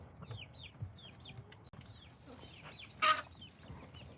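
Chickens and young chicks in a backyard flock cluck in short, repeated calls, close by with a quiet ambient background and one brief louder squawk near the end.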